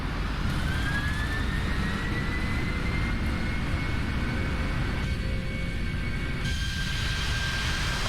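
Thrust reversers on a PMDG 747-400F cargo jet after landing in a flight simulator, a loud, steady jet-engine roar with a rising whine and a shift in tone near the end, and no talking.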